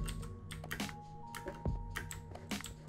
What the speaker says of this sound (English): My keyboard's a little messed up.